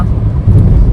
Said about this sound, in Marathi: एकच लाईनीवरून येणाऱ्या जाणाऱ्या गाड्या जात आहेत